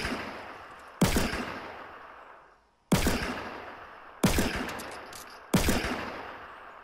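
Four heavy, booming gunshots from Fortnite ring out one at a time, each with a long decaying tail that rolls away before the next, spaced one to two seconds apart with no talk.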